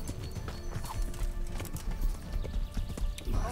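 Horse hooves clip-clop in Kingdom Come: Deliverance, a brisk, uneven run of hoofbeats close by, with a faint whinny and game ambience underneath.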